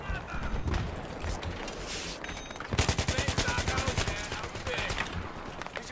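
Rapid automatic gunfire in Battlefield 3, with a loud burst of evenly spaced shots in the middle, lighter firing before and after, and voices talking over the shooting.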